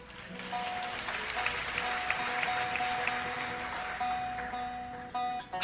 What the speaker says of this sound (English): So give yourselves a nice hand.